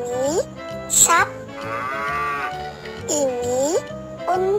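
Cow mooing in a children's animal learning track, a long drawn-out low moo in the middle over bouncy background music with cartoonish melodic swoops.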